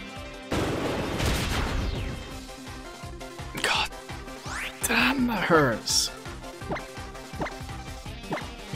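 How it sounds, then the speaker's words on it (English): Acid Spray attack effects from Pokemon Ultra Moon: a run of sharp whacks, hissing sweeps and crashing bursts over game music, with someone talking over parts of it. "Acid spray. Get rid of some of his defense."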